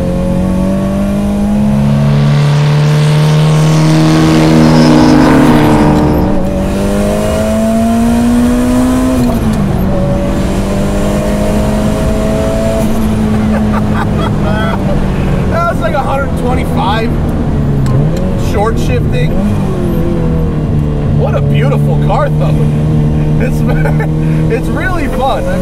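Turbocharged Ferrari 308 with about 570 wheel horsepower, engine loud and close as it drives and revs, pitch rising and falling through gear changes, with a person talking over it throughout.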